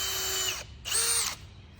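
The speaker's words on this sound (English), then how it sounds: "I'm gonna grab a drill and get started." A power drill bores test holes into a log for a mushroom garden, giving two short high whines with a brief pause between them, close and clear.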